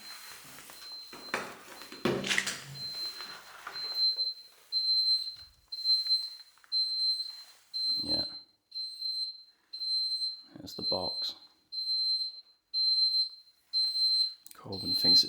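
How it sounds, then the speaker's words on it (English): Fire alarm in an abandoned indoor leisure centre giving a faulty, regular high-pitched beep, repeating about once a second, with brief talk and footsteps. "That's why you can hear that alarm."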